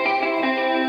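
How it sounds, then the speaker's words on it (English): Lush, sustained jazzy guitar tone from a Native Instruments virtual instrument, heavily soaked in chorus, delay and reverb, ringing as a smeared, continuous chord with no voices. "I chose a Native Instruments jazzy guitar sound, and I put it through a lot of chorus and delay and reverb"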